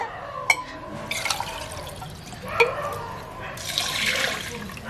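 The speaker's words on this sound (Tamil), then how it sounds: "2 பணி கப்பிப்பால் விட்டுருக்குறோம்." Coconut milk pours in splashy bursts into a pot of soaked rice for Sri Lankan kiribath. Two short sloshes are followed by a longer, steady pour, all close and free of talk.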